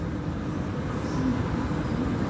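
A train rolls through a city station with a steady, broad rumble that holds evenly throughout, close and continuous.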